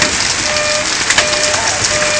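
Hail falling during a June storm in Texas, a loud dense continuous hiss of pelting ice with scattered sharper impacts, steady throughout and close by, with no speech.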